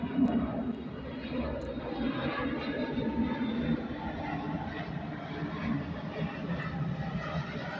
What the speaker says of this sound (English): Love these planes coming by.